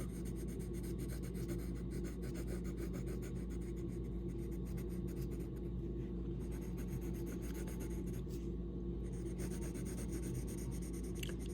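Steady, continuous scratchy rubbing of fluorescent colored pencil on paper, close and fairly quiet, with no voices.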